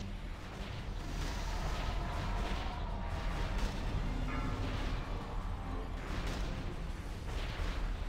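Heavy, continuous rumbling cannon fire in a video game, with booming blasts piling on each other into a loud, dense wall of noise.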